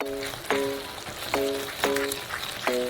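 A spoon stirs tomato sauce seasoned with oregano in a pot, producing repeated scraping strokes about every half second over a soft background sizzle.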